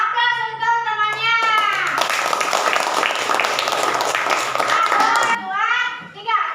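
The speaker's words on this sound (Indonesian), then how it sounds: "aplaus untuk temannya" A class of primary school children claps for a classmate, a dense burst of applause lasting a few seconds, framed by children's voices speaking before and after.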